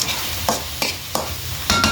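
Leafy greens are stirred in hot oil in a pan. Five or six sharp scraping strokes land about every third of a second over a soft, steady sizzle, with no speech.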